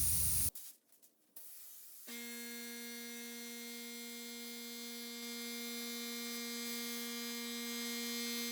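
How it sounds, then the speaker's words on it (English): Cheap Harbor Freight spray gun spraying adhesion promoter onto a car interior part, a brief hiss and sputter at first, then a steady tonal hissing hum that holds to the end. "I'm just going to be using a cheap Harbor Freight spray gun"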